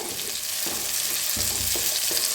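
Chopped tomato fries with onion in a pan, giving a steady close sizzle with a few soft stirring scrapes mixed in.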